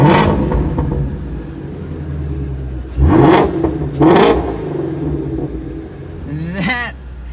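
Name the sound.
Ford Mustang V8 engine revving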